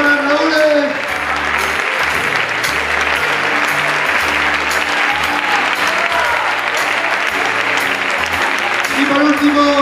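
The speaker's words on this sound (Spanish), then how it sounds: "Un fuerte aplauso para Raúl." A gala audience applauds Raúl at a Payasos Sin Fronteras benefit event: sustained, dense, loud clapping from a large crowd filling the whole stretch, with a few voices and calls mixed in.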